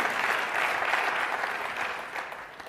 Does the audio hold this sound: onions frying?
no